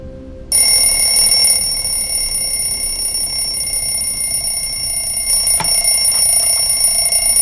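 An alarm clock rings loudly and continuously with a steady high-pitched bell tone, starting abruptly after a brief quiet moment and continuing without pause, with a small knock partway through.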